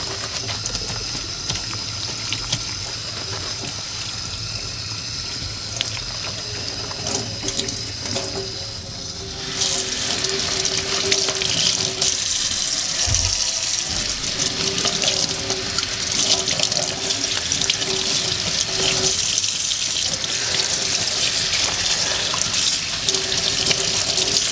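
Tap water runs steadily into a sink as an object is rinsed off after being soaped, a continuous close hiss that grows louder and fuller partway through.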